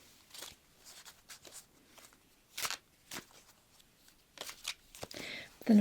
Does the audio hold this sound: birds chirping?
no